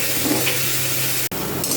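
Onions fry to golden in a pan, giving a steady close sizzle with stirring clinks, a brief dropout near the middle, then the frying hiss resumes.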